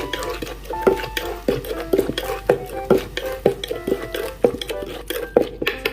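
Star gooseberry (mayom) salad pounded in a mortar, a steady rhythm of sharp knocks and wet thuds roughly twice per second, close and fairly loud, with a faint clatter of utensils between strikes.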